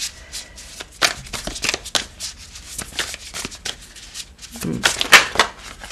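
Playing cards, apparently tarot cards, are shuffled by hand in a series of crisp riffling and sliding bursts, close and fairly loud, with a brief rustle near the end.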